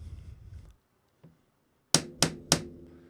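Three sharp, ringing metallic taps on the blade of an EDC folding knife, evenly spaced and close, testing the lock, after a brief low rustle and a faint tick.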